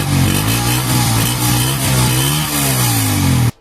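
A motorcycle engine revs hard and close, a loud continuous roar that rises and dips in pitch as the throttle is worked, then cuts off abruptly at the end.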